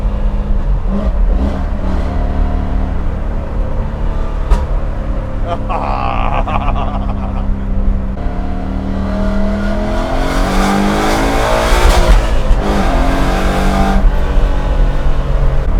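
A Coyote-swapped 1967 Ford F100 pro touring truck accelerating hard, engine roaring and climbing through gears with a loud, continuous exhaust note heard nearby, people talking over it.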